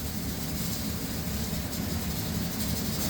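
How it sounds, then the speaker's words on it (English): A pressure canner on a kitchen stove gives off a steady, broad, rushing hiss that drones on without a break, fairly loud and constant. "we have the pressure canner going on the stove right now"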